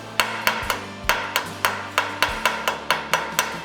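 Eleven sharp metallic hammer blows knocking slag off a fresh weld seam, in an even, fairly quick rhythm, close up and loud, each ringing briefly before the next strike.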